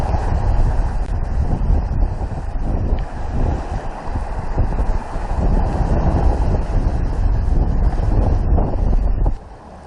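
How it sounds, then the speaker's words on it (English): Strong, steady wind roars over the microphone on a sailboat running under sail alone at about 8 meters per second, with rising waves and water rushing around the hull, continuous and loud until it drops off abruptly at the very end. "We are now at about 8 meters per second, and the waves are increasing, and Wind picking up."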